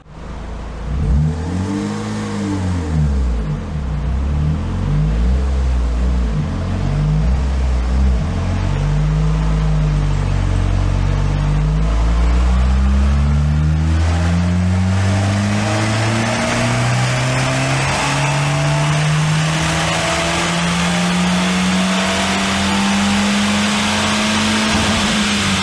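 A 1998 Citroen Saxo VTR engine on a dyno pulls through the revs, starting with a few loud blips and then climbing in one long, steady, roaring sweep that stays close and loud to the end.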